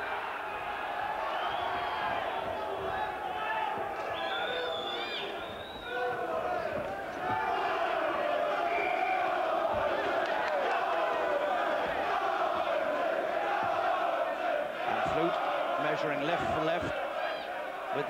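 At a 1994 professional boxing bout, a large arena crowd roars and chants in a constant wall of massed voices. A commentator talks over it and the noise swells near the end.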